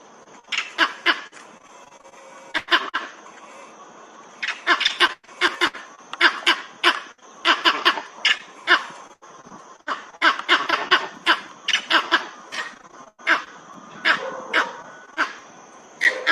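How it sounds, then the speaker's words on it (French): Vervet monkeys give repeated alarm calls, loud sharp barking bursts in clustered series with brief pauses between, close by and continuing throughout against a quiet background. "j'ai pris une petite vidéo juste du cri d'alarme, juste pour vous montrer"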